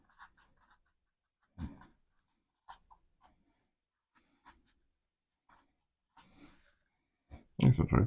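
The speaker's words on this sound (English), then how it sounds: "Write a little note." A pen scratches out a short handwritten note at a workbench during a Commodore 128 and 1571 disk drive teardown, in soft intermittent strokes that are close and quiet, with a few breaths and faint handling noises.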